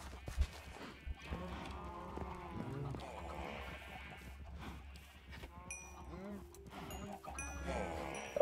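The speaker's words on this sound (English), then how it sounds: "we need to start breeding cows real bad" Minecraft cows mooing in a farm area, several drawn-out low calls spread across the clip at moderate distance, mixed with other farm-animal noises and a steady game background.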